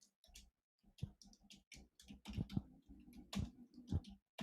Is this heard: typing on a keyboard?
yes